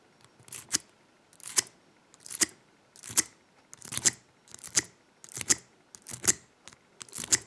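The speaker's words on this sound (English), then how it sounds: "I take my wrong tool, I take my half diamond and I try to zip it" A half diamond lock pick is raked rapidly across the spool pins of a lock, giving about ten sharp metallic scraping zips in an even rhythm, each a crisp burst close to the ear, with near silence between them.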